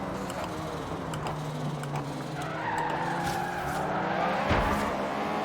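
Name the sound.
car e-brake skid in video game Forza Horizon 3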